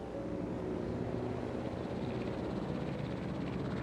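Transport helicopter in the Jurassic World Evolution video game flying, a steady low rotor and engine rumble with broadband whoosh, continuous and even throughout, no voices.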